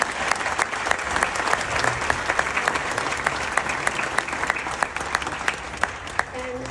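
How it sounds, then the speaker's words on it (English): An audience at a Memorial Day speaking event applauds, steady loud clapping from a crowd sustained throughout with a few sharper claps standing out. "let's give him another hand."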